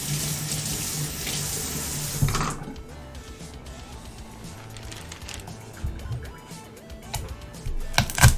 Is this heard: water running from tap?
yes